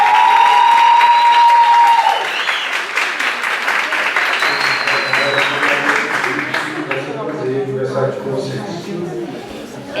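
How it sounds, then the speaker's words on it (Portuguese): An indoor audience at a podcast panel bursts into dense clapping that starts loud and slowly fades, with cheering mixed in and speech picking up underneath toward the end. "salve de palmas para o Thiago Rogério"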